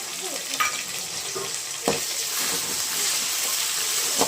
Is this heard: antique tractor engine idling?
no